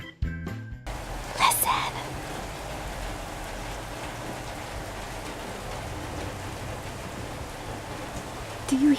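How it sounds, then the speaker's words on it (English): Heavy rain pours steadily during a storm in Los Angeles, a dense, continuous hiss from start to finish, with brief voices and a few short knocks near the opening. "It is rain. It's a lot of rain."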